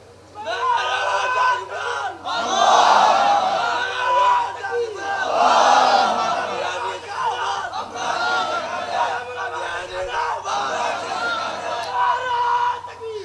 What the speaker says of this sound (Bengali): লোক দাঁড়ায়া একটু নারায়ে তাকবীরের স্লোগান দেন তো